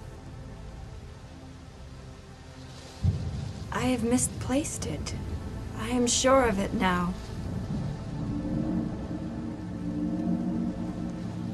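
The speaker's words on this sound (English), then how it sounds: "It is still raining." Steady rain hisses in the background while people talk over it.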